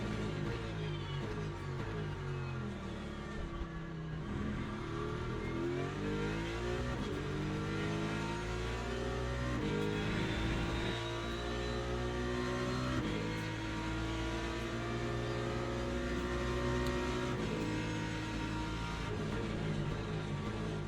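A BMW race car engine in a racing video game drones and revs continuously at close range, shifting pitch as it accelerates and eases off, with other cars' engines mixed in.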